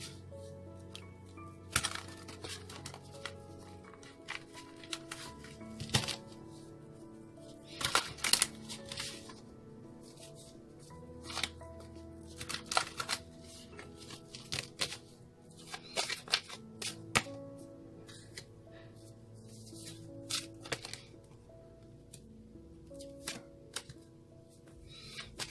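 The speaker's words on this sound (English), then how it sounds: "3 more shuffles, they say." Tarot cards are shuffled during a weekly love reading, their soft riffles and slaps repeating in quiet, uneven bursts over a faint background drone, with no talking.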